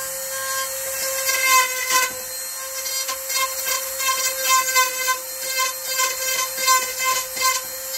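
A power saw cuts wood trim on an RV, its steady high whine rising and dipping in repeated strokes as the blade works through the board, loud and close with no talking.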